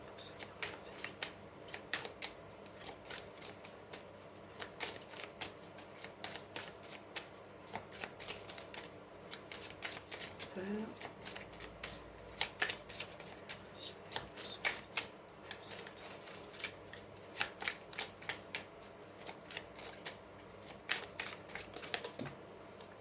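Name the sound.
shuffling a new deck of tarot cards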